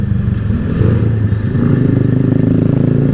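A Keeway Cafe Racer 152 motorcycle engine runs loud and close, rising and falling in revs with a clattering, pulsing exhaust note as the rider works through the gears.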